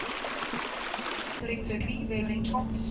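Rushing, steady water sample played in Ableton fills the first moment and a half, then cuts abruptly to a quieter passage with a low hum and faint tonal sounds.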